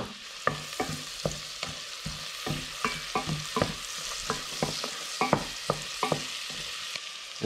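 Shallots and garlic sweating in a pan with smoked paprika, a soft low sizzle broken by regular scraping knocks of a utensil stirring, roughly two per second, close and without talk.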